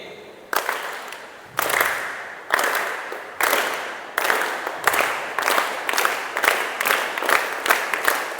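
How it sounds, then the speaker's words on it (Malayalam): A group of students at a one-day camp performing a train clap, starting with a few widely spaced unison claps that speed up into a faster, evenly rhythmic chugging pattern like a passing train, fairly close and without talk. "ഇതിന്റെ ഈ ക്ലാപ്പിന്റെ പേരാണ് ട്രെയിൻ ക്ലാപ്പ്. അതായത് ട്രെയിന് പോകുന്ന ശബ്ദം പോലെ ഉണ്ടാവും."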